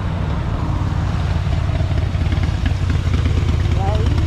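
A Kawasaki Vulcan 650 S motorcycle engine rumbles steadily up close, loud and continuous, with people talking over it.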